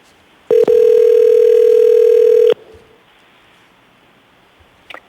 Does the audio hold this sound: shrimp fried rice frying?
no